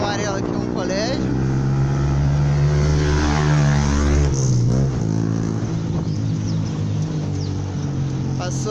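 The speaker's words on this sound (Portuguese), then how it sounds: "Passou aqui agora uma moto barulhenta." A noisy motorcycle passes close by on a street, its loud buzzing engine swelling and pitching as it goes past, with steady traffic noise throughout.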